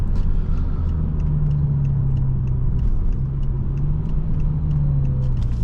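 A 2007 BMW M6 with its V10 engine drives on the road, heard from inside as a steady, loud low rumble of engine and tyre noise with a faint hum rising and settling.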